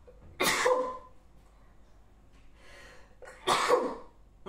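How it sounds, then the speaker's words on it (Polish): Two separate sneeze-like bursts from a woman, each a sharp loud explosive puff of air, spaced about three seconds apart with quiet breathing between them. "No kicham."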